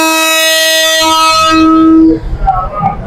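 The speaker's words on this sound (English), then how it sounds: "Now we're going to board the Old Harbour train to Old Harbour." Old Harbour train in Jamaica sounding a loud, sustained horn with strong tonal harmonics for about two seconds, then cutting off into rumbling rail and background noise.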